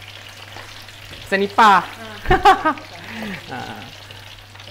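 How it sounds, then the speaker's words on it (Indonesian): Thick slices of pisang nipah and pisang kapeh bananas sizzle and crackle in hot oil as they fry into chips, with bursts of bubbling under a voice speaking briefly. "Dan kita goreng dia dengan minyak yang panas."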